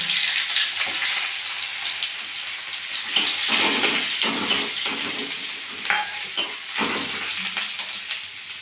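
Dried chilies and onion sizzle and fry steadily in a hot pan, a close, continuous crackling hiss broken by a few scrapes and stirs, with no talking.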